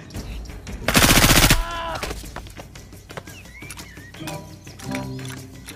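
A toy gun fires a rapid, loud burst in the dinosaur hunting video game Jurassic World Evolution 2, followed by scattered clicks and small game effects.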